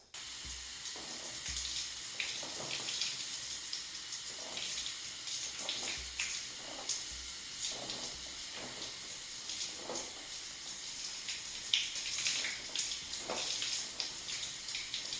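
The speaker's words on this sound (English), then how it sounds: "I am going to turn on the water and do a little bit of detangling" Water runs steadily from a tap in a hair-washing session, a continuous close hiss and splash with occasional louder spatters as hands work through the stream.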